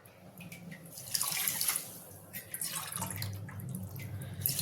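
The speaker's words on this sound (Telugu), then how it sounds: "2 గిన్నెల నీళ్లు పోసుకుందాం." Water pouring from a vessel onto sugar in a pot for gulab jamun syrup, a steady splashing stream that swells and eases over a few seconds, with no talk.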